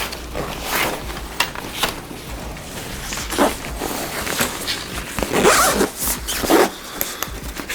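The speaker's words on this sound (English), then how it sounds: "I'm gonna zip that compartment up." A backpack compartment is zipped shut, several quick rasping zipper pulls up close, with light fabric rustling between strokes and no talking.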